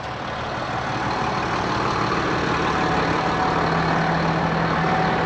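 A tractor engine idles near and steady, a low continuous rumble with an even, slightly rough texture that holds at the same loudness throughout, with no voices over it.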